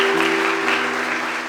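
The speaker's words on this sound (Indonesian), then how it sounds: "Tepuk tangan buat Tuhan Yesus Kristus." Applause from an audience at a youth seminar and worship gathering in Gorontalo, a dense wash of clapping heard close and steady throughout the short burst.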